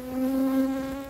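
Honeybees buzzing steadily around a hive colony while a new queen is being installed, a close, continuous drone with a strong sustained hum that swells slightly and holds for about a second.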